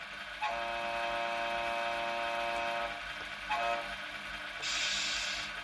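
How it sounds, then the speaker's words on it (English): The air horn of an RC truck with a Tamiya MFC-01 sound unit blares one long note, then a brief short blast, followed by a hiss of released air. "And then we have the air horn"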